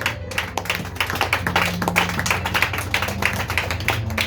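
A church congregation claps and acclaims Jesus in quick rhythmic, continuous bursts of hand claps, with tonal music or voices sustained underneath, filling the room.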